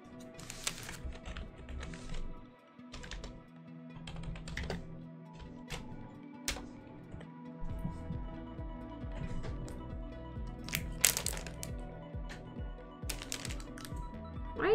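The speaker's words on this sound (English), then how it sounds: "My keyboard not working." Fingers type on a computer keyboard up close, producing steady, loud runs of clicking keystrokes with occasional heavier taps and short pauses, and no voices.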